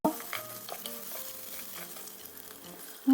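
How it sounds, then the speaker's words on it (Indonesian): Spicy sausage filling stirred with a spoon in a rice cooker, a steady sizzle with scraping and light clinks against the pot, close and without talk. "Aduk agar bumbu nggak nempel."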